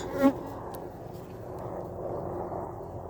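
Honeybees hum during a late-February beehive inspection in Adana, a faint steady buzzing drone with a soft knock near the start.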